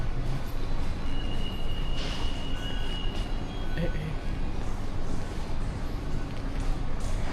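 Steady rumbling noise of a train at a Thai railway station on the Bangkok to Muak Lek line, with faint squeals and clatter over the constant din.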